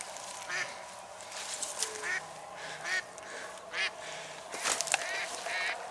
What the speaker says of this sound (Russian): Подсадная хорошо пока что работает, даже очень.